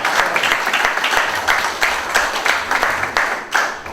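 Church congregation applauding together during a sermon, a steady dense wash of many hands clapping at full loudness for the whole stretch, no voice on top.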